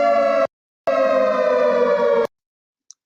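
A loud siren sounds in two steady, sustained blasts, a short one and then a longer one, separated by a brief silence.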